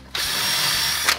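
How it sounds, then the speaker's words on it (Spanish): A power drill with a fresh bit marks hole positions through a template inside a kitchen cabinet, one close, loud, steady whine starting abruptly and cutting off just over a second later. "ya cambio de broca y ya le voy marcando los 6 taladros que tengo"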